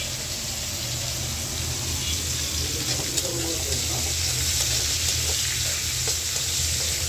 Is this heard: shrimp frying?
yes